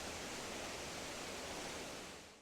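A waterfall roars as a steady, broad wash of rushing water, continuous and fairly distant-sounding, easing slightly at the very end with no voices.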